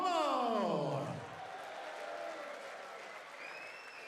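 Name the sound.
crowd applause at darts tournament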